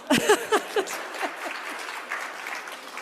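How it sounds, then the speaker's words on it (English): A crowd claps, with a few loud distinct claps at first that blend into steady, softer applause trailing off. "You can applaud."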